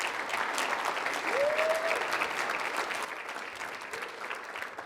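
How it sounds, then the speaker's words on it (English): Sustained applause from a crowd at a high school college signing event honoring a student athlete, steady dense clapping that fades slightly toward the end, with a brief whistle-like tone in the middle. "A big round of applause again for Isaiah Garza"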